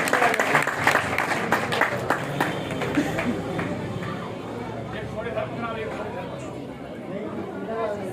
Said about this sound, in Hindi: लगाओ ताली जोर से जो है ताली लगाओ